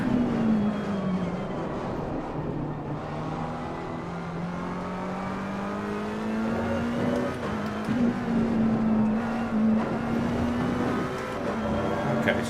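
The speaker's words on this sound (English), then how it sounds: "I really like the sound of my car. It's just purrs away." A BMW six-cylinder car engine in a video game hums smoothly and steadily, its pitch rising and falling slightly as the revs shift, loud and continuous.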